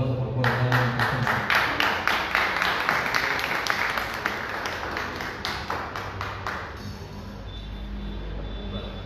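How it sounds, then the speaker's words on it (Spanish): A crowd at a provincial awards ceremony claps for the provincial mayor, with rhythmic, fairly close applause for about six seconds before it tapers off. "Le agradecemos con los aplausos por favor"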